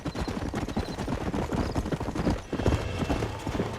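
Horse hooves clip-clop in steady, fast rhythm in Red Dead Redemption, close and loud, with an occasional faint whinny mixed in.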